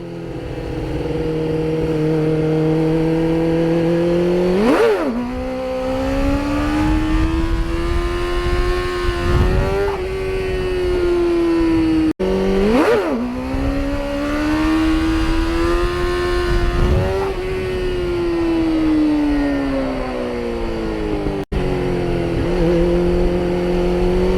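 A motorcycle engine revving hard through repeated wheelies, loud and close, with rising and falling engine pitch as the throttle opens and eases off in two long pulls.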